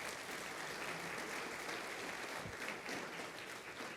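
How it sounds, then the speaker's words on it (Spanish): A congregation at a church sermon breaks into applause: a continuous, fairly faint patter of many clapping hands, steady and uniform throughout, with no talking over it. "Dele un aplauso a Dios entonces"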